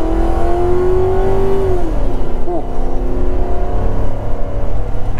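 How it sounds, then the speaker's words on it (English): A 2006 Ford Crown Victoria P71 Police Interceptor at full throttle gives a loud, close engine roar whose rising tone drops at a gear change before climbing again, with road and wind noise underneath. "I haven't floored it in a while."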